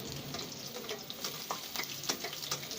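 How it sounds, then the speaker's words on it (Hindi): Chicken strips deep-fry in hot oil for KFC-style extra crispy tenders, giving a steady, dense sizzle with scattered crackles and pops close by. "इसको अच्छे तरीके से हम जो है ना एक तरफ फ्राई होने देंगे"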